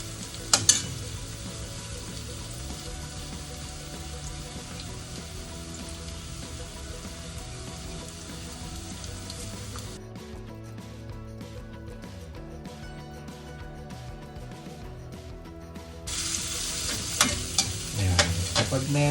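Minced garlic sizzles and crackles steadily in a hot pan with onion, with occasional stirring scrapes. The frying stays loud and close, dips briefly partway through, then swells again.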